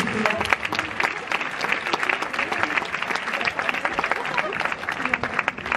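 Sustained applause fills a cinema as an audience welcomes guests, with a thick wash of many hands clapping at a steady loudness and faint voices underneath.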